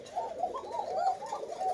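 A pigeon at a farm coos softly and repeatedly nearby, a low rolling call in short phrases with no other sounds.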